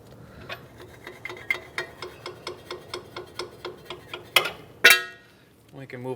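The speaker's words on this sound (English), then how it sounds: "we will need to use our wrench in the back" A ratchet wrench tightening a sway bar link bolt on a 2007-2015 Mazda CX-9, a regular run of close clicks followed by a couple of sharper metallic knocks, with a brief bit of speech at the end.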